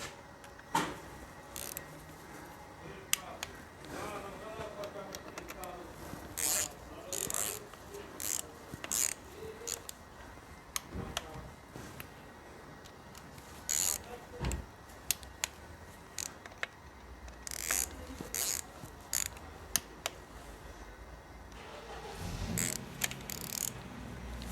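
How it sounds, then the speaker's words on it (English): Torque wrench clicks and ratchets faintly while tightening transmission screws on a Mercedes-Benz B200 W245 CVT gearbox, with scattered small metallic ticks and tool handling noises close by, heard on their own. "first we are going to torque screws 5 and 5A to 4 Newton meter."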